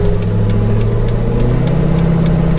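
Car engine droning steady and strained while driving with a failing 4L60E automatic transmission, a low mid-pitched hum with a faint rhythmic ticking above it and no voices.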